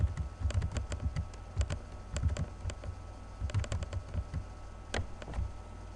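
Steady typing on a computer keyboard, irregular bursts of soft clicking keys heard up close at a fairly quiet level, with no talking.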